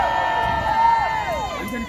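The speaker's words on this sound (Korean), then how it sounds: "자, 다 같이 함성." Outdoor rally crowd in Korea shouting and cheering together at the host's prompt, a loud sustained roar of many voices with rising and falling whoops.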